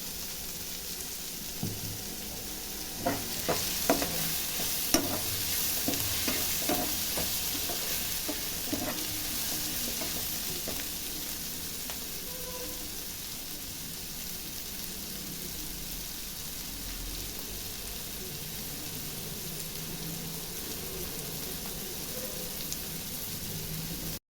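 Goat trotters (paaya) sauté with tomatoes in a pan, giving a quiet steady sizzle with a few sharp ladle taps and stirring clicks early on, then continuous soft frying.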